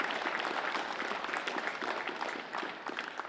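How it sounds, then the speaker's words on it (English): A crowd claps for a speaker during a Pride Round football livestream, a steady patter of many hands heard at a distance and fairly quiet, with no voices standing out. "Give him a round of applause,"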